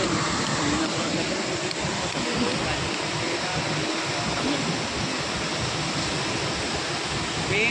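A waterfall at Mali Elamu roars as a broad, constant rush of water, steady and unbroken throughout, heard from a distance with no voices over it.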